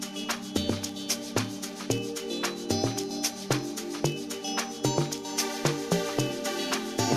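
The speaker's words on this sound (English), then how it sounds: "Amazing saw synth we have over here." A saw synth in an amapiano track made in Caustic 3 plays a bright, buzzy chord pattern in rhythmic stabs over a punchy beat and deep bass, loud and alone with no voices.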